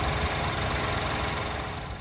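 A 2023 Ford Transit T-150 passenger van with a 3.5 liter V6, automatic transmission and all-wheel drive runs steadily nearby, a dense, even engine drone with a low rumble that fades slightly toward the end.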